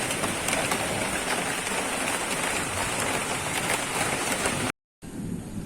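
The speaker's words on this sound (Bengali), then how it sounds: "দেখুন বাইরেটা বৃষ্টি নেমেছে" Rain falls steadily outside in a dense, even hiss with no voices, broken by a short silent gap near the end before it resumes.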